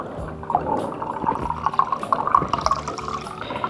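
Film developer from Adox chemicals, used on Kentmere 200 film in an AGO film processor, is poured back into its container, a near, steady liquid trickle with splashing and dripping.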